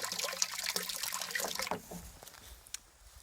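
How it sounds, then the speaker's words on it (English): A hose fed by a mountain spring pours water into a half barrel outdoors, giving a steady, close splashing and gurgling rush that continues throughout with no talk. "So I've got a half barrel down here, which is filling up with water"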